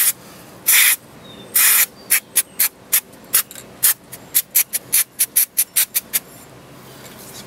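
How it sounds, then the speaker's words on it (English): White lithium grease sprayed from an aerosol can onto a disc brake rotor: two longer hissing bursts, then a rapid string of about fifteen short, sharp spurts, all close and loud with no voices. "Spray that on there so it doesn't corrode"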